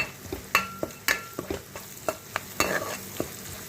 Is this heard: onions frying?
yes